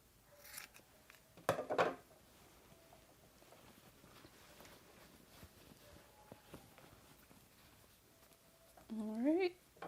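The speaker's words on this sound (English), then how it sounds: "So I gotta clip the corners so that everything will lay smoothly once I turn it right side out." Scissors snip the fabric corners of a homemade bra, with a couple of short close clipping bursts separated by quiet handling noise, and a brief voice near the end.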